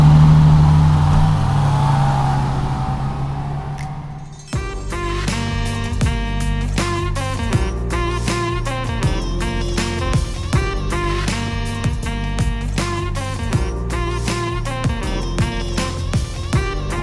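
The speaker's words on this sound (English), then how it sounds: "So here we are cruising down the beach, getting to know this place a little bit." An off-road vehicle driving along Hauser Beach on the Oregon Coast rumbles steadily for about four seconds, then loud music takes over and buries it.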